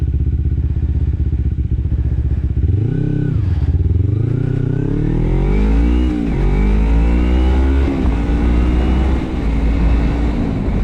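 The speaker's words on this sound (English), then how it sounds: "I love riding my motorcycle." A Kawasaki Ninja 250 motorcycle engine with a silencer fitted idles, then revs up repeatedly in rising, falling sweeps, loud and close, settling into a steady rumble.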